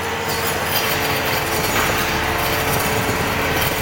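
A table-mounted circular saw with a 2 mm blade, rigged to turn wood, runs as a steady, loud, dense grinding roar with a faint rattling mechanical undertone and no pauses.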